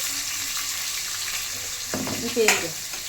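Onions sauté in a hot pan, a steady close sizzle with stirring scrapes and a brief louder clatter of the utensil near the end.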